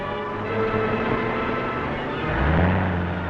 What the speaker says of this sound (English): Our car's running wild.